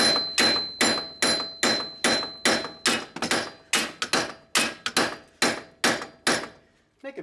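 Repeated sharp slide hammer strikes pulling a wheel bearing on a second-generation Toyota Prius, about a dozen loud metallic-wooden knocks in an even, fast rhythm, close up with no talk.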